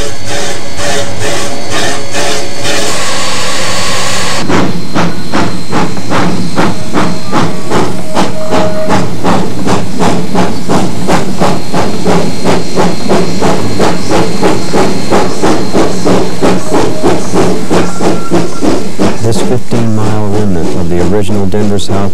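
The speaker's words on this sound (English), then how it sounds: "On July 6, 1938, engine number 74 is switching cars for the run to the Climax molybdenum mine." Narrow gauge steam locomotive number 74 of the Denver South Park and Pacific switches cars in Colorado in 1938, loud steam hiss and a steady, rapid mechanical beat running throughout, on old film sound.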